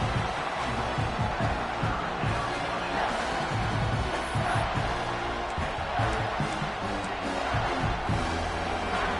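A football stadium crowd roars steadily on a third-down play, a dense sustained wall of cheering and noise that fills the whole stretch without a break.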